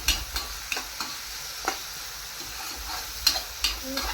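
A spoon scrapes and stirs zunka in a sizzling frying pan, giving sharp irregular clinks and scrapes over a steady fry hiss.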